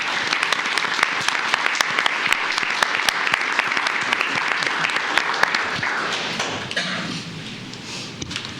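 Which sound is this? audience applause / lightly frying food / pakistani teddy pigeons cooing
audience applause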